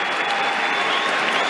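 A tennis crowd at the 2022 French Open applauds a winner between Nadal and Djokovic, with dense, loud, sustained clapping filling the whole moment.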